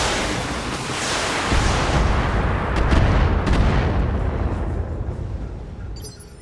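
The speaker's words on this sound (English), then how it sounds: "All weapons, fire." Mech weapons firing in the video game Battletech: a dense barrage of booming, artillery-like blasts piled into a continuous roar with a few sharper cracks, loud and sustained before tapering off near the end.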